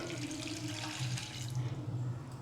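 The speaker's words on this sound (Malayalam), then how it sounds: "ഒരു ഗ്ലാസ് വെള്ളം ഇതിലേക്ക് ഒഴിക്കുക" Water pours steadily into a pot close by, a continuous splashing gurgle for a couple of seconds with no talking.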